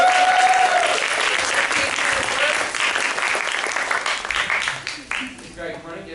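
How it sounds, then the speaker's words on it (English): Audience applause at an improv show, loud and full from the start, tapering over about five seconds, with a voice speaking briefly as it fades. "Give them a round of applause"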